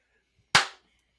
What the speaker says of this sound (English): The sound suspiciously sounds like someone banging on a sheet of metal.